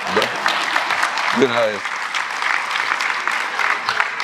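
An audience at a traffic authorities' congress applauds steadily in a dense, sustained patter while a voice speaks briefly over the clapping.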